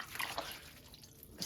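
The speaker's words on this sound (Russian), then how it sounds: "Потекла у нас труба. Вот здесь вот дырка." Water drips from a leaking, holed pipe flooding an apartment at night, a soft irregular patter of close droplets and splashes, fairly faint with no one talking.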